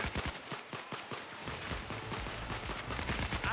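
Rapid bursts of gunfire crackle in Payday 2 during a jewelry store heist shootout, with many sharp shots stacking into a loud, near, continuous barrage.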